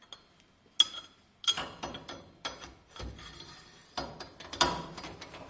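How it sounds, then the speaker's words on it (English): A fork damper tool clicks and ratchets as it is locked into place on an Apache RR310 motorcycle fork, a series of short, quiet metallic clicks and rubs with pauses between them. "For that you need to lock the damper tool from the top like this."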